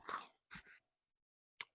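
Crunchy food chewed during a mukbang: a few close, soft crunching bites, separated by brief silences.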